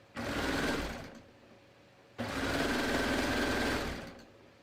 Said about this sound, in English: let me just sew these.